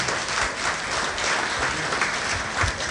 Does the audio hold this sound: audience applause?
yes